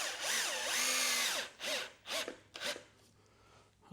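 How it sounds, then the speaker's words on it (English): A drill drives a wood screw at an angle through the tenon of a wooden reindeer leg, rising and falling motor whine in one long run followed by several short bursts, close and clear. "I'm going to drive the screw in that way so it goes through the tenon on both sides."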